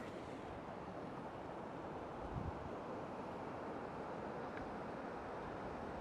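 A continuous broadband roar of water rushing over a dam, steady and distant-sounding, with no voices.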